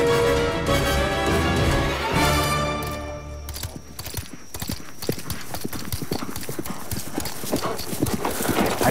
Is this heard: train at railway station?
no